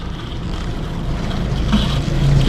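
An RV water pump drawing water into a tank runs as a steady close mechanical whir and rush that grows slightly louder, with no voices.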